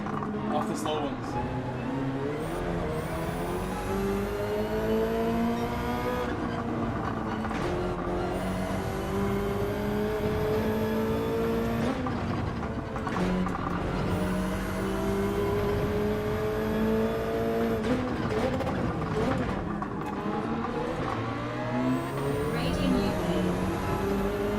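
A Lamborghini race car in Gran Turismo 7, racing at Laguna Seca, with its engine repeatedly revving and accelerating through the gears in rising sweeps, loud and continuous, while a voice talks over it throughout.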